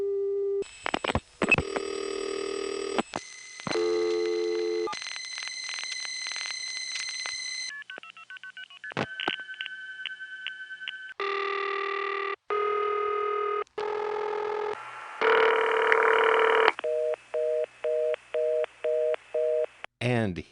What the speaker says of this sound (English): Here is a brief set of phone sounds that I consider colorful.